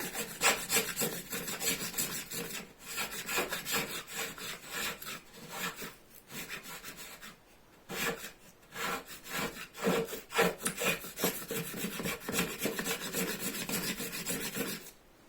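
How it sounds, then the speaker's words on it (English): A card scraper shaping wood for a bow-saw, rasping in steady rhythmic strokes with brief pauses between passes, close and moderately quiet with no talking. "not the spoke shave, the card scraper."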